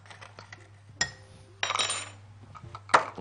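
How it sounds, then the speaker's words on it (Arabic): Dry ingredients for oat cookies, including salt, baking powder and cinnamon, stirred together in a bowl, giving a few sharp clinks and scraping bursts of utensil against the bowl with quiet gaps between them. "تمام، ونبدأ اللي احنا نقلب الخليط ده مع بعضه."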